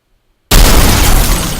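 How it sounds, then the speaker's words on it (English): A destroyed enemy spider robot in a video game blows up in one sudden, loud, full-range explosion that hits after half a second of silence and then roars on with a dense, slowly fading noisy rumble. "That is when you destroy the enemy robot, the enemy spider."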